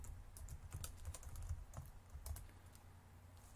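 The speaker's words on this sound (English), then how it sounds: "so we can type show databases" Commands being typed on a computer keyboard into a MySQL session, a quick irregular run of light close key clicks over a low steady hum, with no voice.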